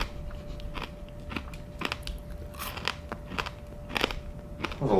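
Crunching bites of fried frog toes, loud and close, in a run of sharp irregular crackles over several seconds with no talking.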